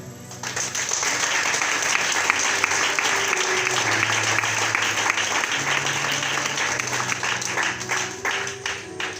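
A congregation at a French-language divine healing prayer service breaks into loud, sustained applause that holds steady for several seconds before slowly thinning out.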